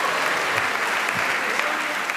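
A comedy show's studio audience claps in a dense, steady burst of applause that holds at even loudness from start to end, close and full, with faint crowd murmur underneath.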